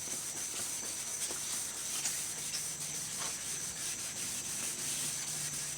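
A car bumper, an aftermarket prime part, sanded lightly by hand, giving a steady close rubbing hiss with faint rhythmic strokes and no talk.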